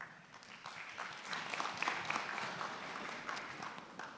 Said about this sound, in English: Please join me in welcoming Mr. Barton with a warm round of applause.